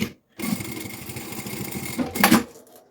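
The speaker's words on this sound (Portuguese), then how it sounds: "Agora vamos passar aqui uma costurinha para segurar à beirinha." A sewing machine runs a seam along the edge of a preschool backpack, whirring in one continuous, close burst of about two seconds before stopping.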